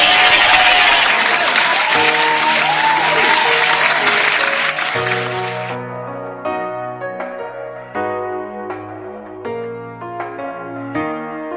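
A studio audience on an Italian music television show gives loud, dense applause for the singer. After about six seconds the clapping stops abruptly and music takes over.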